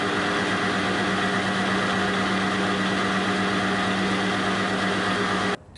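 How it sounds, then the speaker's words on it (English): A metal lathe spins at a set 300 rpm, giving a steady, even mechanical hum with a constant drone and no change in speed until it cuts off abruptly at the end. "Now we've set the lathe up for 300."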